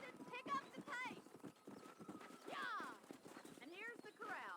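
Hooves clip-clop at a steady pace near a corral while a horse whinnies a few times in the video game Red Dead Redemption, with a voice talking over the sounds.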